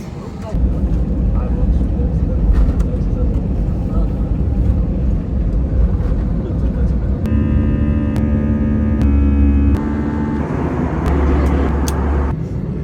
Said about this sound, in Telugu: ఇప్పుడే జస్ట్ నౌ కెంపెగౌడ బెంగళూరు ఎయిర్పోర్ట్లో ల్యాండ్ అయినా